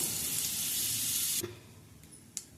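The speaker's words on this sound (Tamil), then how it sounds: "ஸ்டவ்வில் ஒரு பேன் வச்சுக்கிட்டோம் அதில் நம்ம தாளிக்கிறதுக்கு ஃபஸ்ட்டு வந்து நம்ம பட்டர் போட்டுக்கலாம்" Loud, steady sizzling of butter in a hot pan fills the first half, then cuts off, leaving quiet kitchen noise and a couple of faint clinks.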